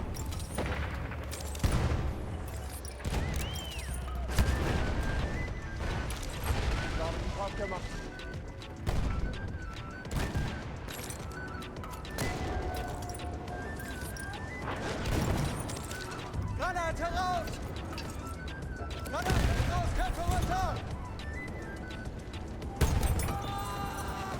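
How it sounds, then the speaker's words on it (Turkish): Repeated grenade explosions and bursts of gunfire in Battlefield 1, with loud booms scattered throughout and voices shouting in German over them. "Granate raus! Ich werfe eine Granate!"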